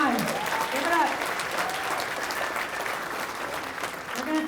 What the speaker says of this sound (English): Yes, round of applause, come on, give it up